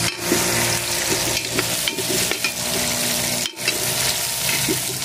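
Onions sauté in a pan for pancit gisado, a steady, close sizzle with occasional stirring clinks that continues almost unbroken, dipping briefly once before resuming.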